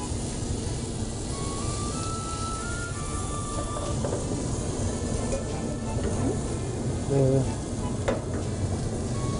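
A chicken steak sizzles loudly in a pan as it is flipped, with a constant close hiss, stirring scrapes and a brief clatter near the end.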